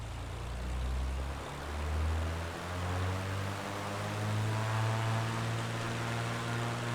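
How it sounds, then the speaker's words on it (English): In Microsoft Flight Simulator, a Beechcraft Baron G-58 twin piston plane heard from outside as the throttle comes up: a steady engine drone with a whine whose pitch climbs in steps as the supercharger spins up. "You're gonna hear the turbo start to spin up, or I think it's the supercharger."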